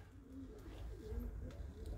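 A male homing pigeon coos softly and repeatedly nearby in a quiet loft, low throaty calls rolling in a steady rhythm with no talk.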